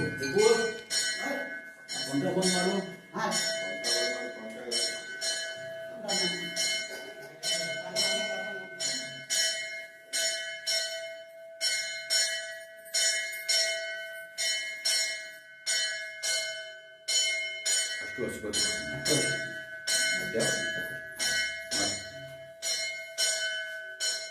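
A temple bell rings loud and fast in steady repeated strokes throughout a Ganesh aarti, with voices singing beneath it.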